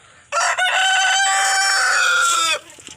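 A rooster belts out one long, loud cock-a-doodle-doo close by, lasting a couple of seconds before trailing off, with faint clucks around it.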